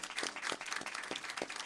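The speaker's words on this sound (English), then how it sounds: "I don't know if it's legal to applaud at a hearing like this, but Luis Miranda, everybody." Audience applause at a public hearing on immigration enforcement: a brief burst of many hands clapping, fairly close and dense.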